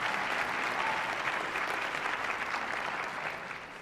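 Sustained applause from a graduation ceremony audience at a multicultural celebration, a steady dense wash of clapping that holds for several seconds and then eases slightly at the end.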